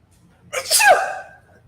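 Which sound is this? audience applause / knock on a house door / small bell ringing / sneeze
sneeze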